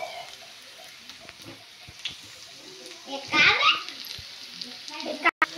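Cabbage hits a hot pan over a high flame for street-cart chowmein, a sudden burst of sizzling in the middle and a sharp crackle near the end, under a woman's speech.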